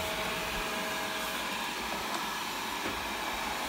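A Viomi V2 Pro robot vacuum cleaner runs indoors as it climbs onto a higher floor tile, giving a steady broadband whir and hiss with a low motor rumble, close and constant for the whole stretch.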